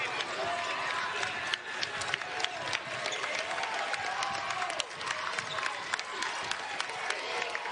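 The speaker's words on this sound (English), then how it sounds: "They stand to applaud the effort." A student section crowd applauds and murmurs at a college basketball game between Rider and Monmouth, producing a steady, dense wash of clapping and crowd noise with scattered sharp claps and faint voices throughout.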